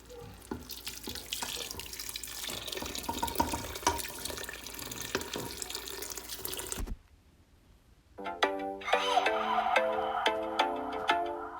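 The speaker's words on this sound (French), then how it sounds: "Et là, je vais rajouter de l'eau." Water from a tap runs steadily into a pot of spiced meat with tomato and onion for a seven-vegetable couscous, a continuous splashing pour that stops briefly before resuming with a brighter, ringing fill.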